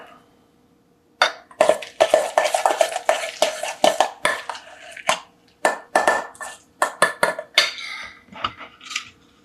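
Chicken salad with a squirt of mustard is mixed in a bowl, with a rapid run of close, sharp utensil clinks and scrapes against the bowl, steady after a brief silent start.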